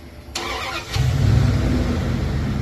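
A 1966 Plymouth Fury's engine cranks with a short starter whir, then catches and settles into a steady, rumbling idle close by.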